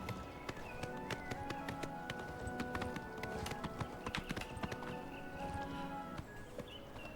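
Horse hooves gallop in a steady clip-clop rhythm in Oblivion Remastered, close and continuous over a busy game soundscape with faint tonal music.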